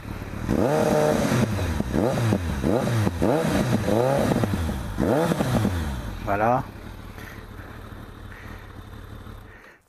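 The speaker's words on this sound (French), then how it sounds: "Je vais la faire démarrer, la refaire démarrer, pour que vous puissiez un petit peu écouter le bruit du pot" A Kawasaki ZRX 1200 motorcycle starts up and its exhaust is blipped through a series of sharp rising-and-falling revs, then settles into a lower idle, close to the microphone, with a brief spoken word near the end.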